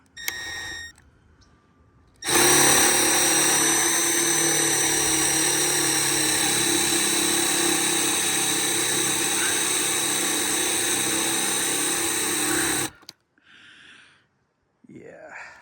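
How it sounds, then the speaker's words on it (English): A power drill bores a hole for an AEV snorkel through the body of a 2021 Jeep Gladiator EcoDiesel, a loud, steady whine held for about ten seconds, with short murmurs before and after. "Once I drill this hole, if I can get it right on the pilot"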